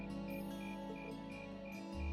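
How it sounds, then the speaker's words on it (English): Cicadas drone in the Trails of Cold Steel video game, a steady chirring chorus with regular pulsing swells, heard alone with no talk. "Cicadas."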